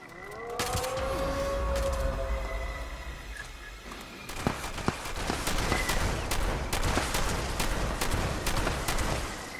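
A large, fast creature in Fallout 76 groans and wails, then a string of sharp shotgun blasts and impacts cracks out at irregular intervals over a noisy game backdrop.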